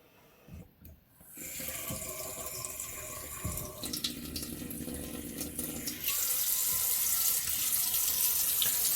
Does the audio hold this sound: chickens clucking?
no